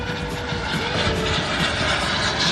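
A jet aircraft is flown hard at an event, giving a continuous broad roar that holds steady and fairly loud for the whole stretch, with no voices.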